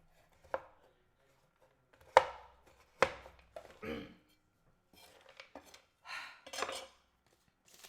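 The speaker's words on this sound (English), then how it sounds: "The rhythmic sounds of me chopping chocolate chips." Knife chopping chocolate chips on a board in a home kitchen, a few sharp isolated chops at first and then a looser run of softer cutting strokes, close and fairly loud.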